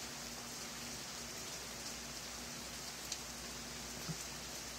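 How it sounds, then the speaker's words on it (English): Rain falling outdoors during a walk, a faint, steady hiss of drops with a low background hum and occasional soft taps, no voices. "I kind of took a walk in the rain"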